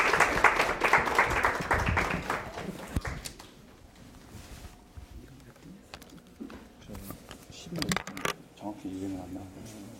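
An audience at a Korean exam-preparation seminar lecture claps briefly and unevenly for a few seconds, then the room goes quieter with scattered shuffling, light knocks and a voice resuming talk.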